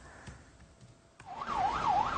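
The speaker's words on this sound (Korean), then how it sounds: "구급차와 경찰차의 사이렌 소리가 요란합니다." Ambulance and police car sirens wail at a bus crash scene on a six-lane road in Seoul, a faint tone at first, then a loud, close warbling siren rising and falling steadily over traffic noise.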